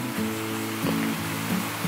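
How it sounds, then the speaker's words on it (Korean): Sprinklers spray water across oak logs in a shiitake mushroom greenhouse on a hot day, making a steady, dense hiss and splash with a low pump-like hum underneath. "물방울 튀는 게"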